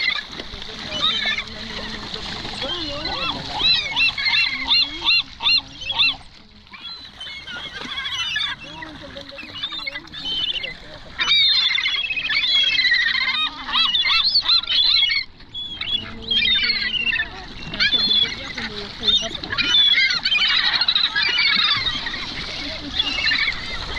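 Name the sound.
ducks quacking by a catfish pond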